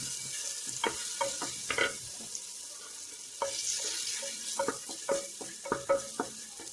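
Onions, ginger and green chillies fry in oil in a pan for Mangalore-style chicken sukka, a soft steady sizzle broken by repeated scraping stirs of a spatula.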